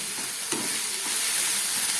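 Split green chillies frying with onion and garlic, a steady close sizzling hiss with a faint stir or two.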